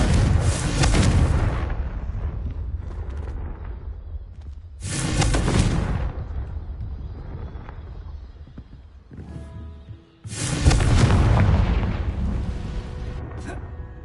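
The Confringo explosion spell in the Hogwarts video game goes off three times, roughly five seconds apart. Each is a loud, close boom that trails into a long rumbling decay.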